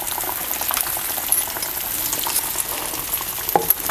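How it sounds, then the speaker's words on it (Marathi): Rohu fish pieces fry in hot oil in a pan, giving an even, close sizzle with small pops throughout. "मच्छी असंच तळून घेऊया. हे बघा ह्या पद्धतीने आपल्याला सगळं तळून घ्यायचं."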